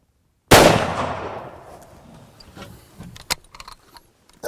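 A single sharp rifle shot cracks out during a wild boar hunt in France, loud and close, then decays into a long outdoor echo. A few faint clicks and rustles follow.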